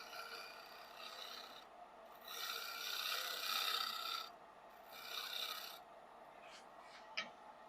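A shear scraper pulled across a small cherry wood bowl on the lathe gives soft, steady rasping strokes in two longer swells, then lighter brief scrapes, close and fairly quiet.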